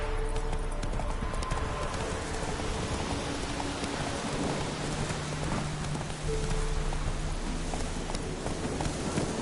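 Horse hooves clip-clopping steadily in The Witcher 3, a continuous close rhythm of hoofbeats layered over rain pattering on the ground, with faint thunder rumbling in the background.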